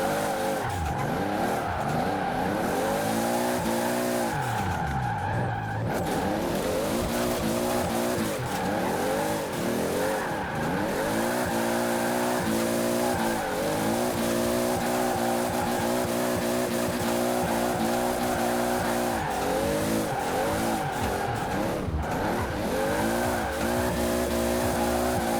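A 2JZ-swapped Ferrari 458 in Forza Horizon 4 racing hard, its engine revving and shifting through gears continuously while tires squeal through corners, loud and close throughout.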